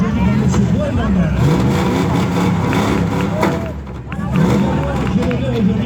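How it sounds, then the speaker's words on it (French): A monster truck with a V8 engine and tires 1.6 m tall revs loudly and continuously, a deep rumbling roar with brief dips, while an announcer speaks over it at a show. "voici les Monster Truck en action"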